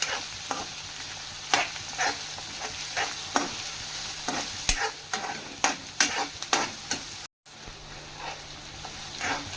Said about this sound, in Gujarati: આને થોડીક ગોલ્ડન બ્રાઉન થાય ત્યાં લગી આપણે સાતળવા દઈશું.